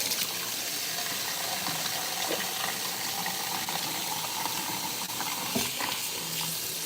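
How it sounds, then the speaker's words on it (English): Tap water runs steadily into a container being rinsed, a continuous hissing splash with faint clinks and knocks. "I'm just gonna let that water run in that for right now."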